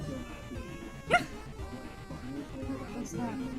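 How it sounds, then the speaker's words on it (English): A dog gives a single sharp bark over a busy background of game music and sound effects, with people talking. "That was a dog."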